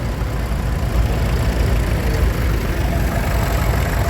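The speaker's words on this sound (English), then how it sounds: "Petrol engine as well." A petrol engine on a vintage tractor fitted with a centre-mounted finger bar mower idles steadily at a classic tractor show, a continuous low rumbling chug close by with no talking.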